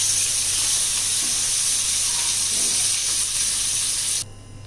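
Chicken pieces sizzle steadily in hot oil as a second batch fries for Mongolian chicken, a loud, continuous hiss and crackle with no talking that cuts off abruptly near the end.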